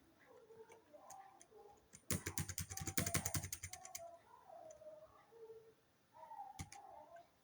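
A rapid burst of computer-keyboard typing, a command keyed in as a dense run of crisp clicks lasting about two seconds, close and fairly loud, with scattered single key taps before and after.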